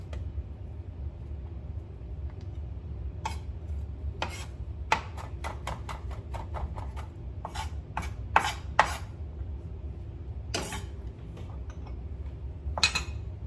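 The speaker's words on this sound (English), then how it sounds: "you'll always see me cutting up my garlic in really tiny pieces" A knife chops garlic into tiny pieces on a cutting board for Caribbean rasta pasta, sharp irregular taps in quick bursts over a low steady background hum, close and fairly clear.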